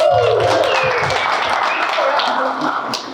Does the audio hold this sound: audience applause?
yes